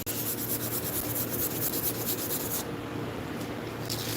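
Carving sanded by hand with coarse 100 grit sandpaper, a close, steady rasping rub in quick repeated strokes.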